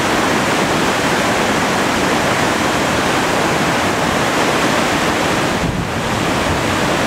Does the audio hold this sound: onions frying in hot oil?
no